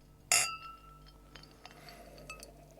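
A single bright clink of glasses touching, sharp and close, followed by a faint ringing and quiet background clatter.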